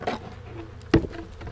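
Honey bees hum in a faint, steady buzz at an opened hive while brood boxes are being reversed, with a few sharp knocks from the boxes and tools being handled.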